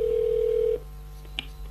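Telephone tone in a German crime radio drama as a caller phones a company in Orlando, Florida: a steady ringing tone holds for under a second, then cuts off, followed by a faint click against a quiet background.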